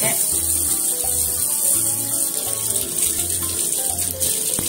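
Tap water runs over three tomatoes being washed by hand in a sink, a steady splashing stream with soft rubbing, and a low rhythmic hum pulsing beneath it.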